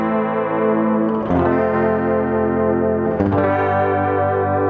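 Sustained electric guitar chords drenched in a wobbling modulated delay from a Boss DD-7 pedal, repeats shimmering and pitch-wavering, with two fresh strums restarting the swirl.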